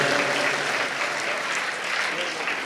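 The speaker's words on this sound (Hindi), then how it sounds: "एक बार इनके लिए तालियां बजाओ आप।" Audience applause at a comedy poetry gathering, a dense, steady wash of clapping from a crowd that holds strong throughout, with voices faintly mixed in.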